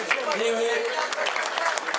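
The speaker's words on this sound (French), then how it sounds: "on applaudit bien fort" Crowd applauding a former Breton cycling champion from 1965, steady dense clapping throughout with a voice speaking briefly over it.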